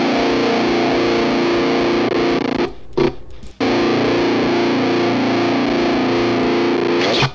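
Heavily distorted electric guitar played through a Line 6 Helix with a compressor, a loud dense chugging riff from a metal song with a brief cut-out near the middle, no voices.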